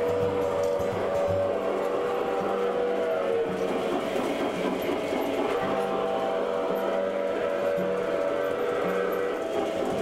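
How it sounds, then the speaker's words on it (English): A steady whistle tone sounds over the continuous whir and rattle of a small model train running nearby, lasting throughout without a break. "Want to hear the whistle here?"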